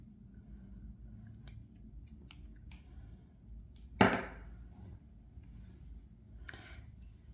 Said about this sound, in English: cut the yarn and fasten off